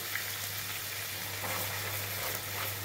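Whole garam masala and bay leaf tempering in hot oil for a katla fish curry, a steady close sizzle and crackle running throughout with no talking.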